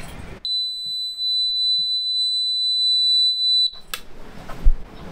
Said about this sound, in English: You were coming up on the first alarm.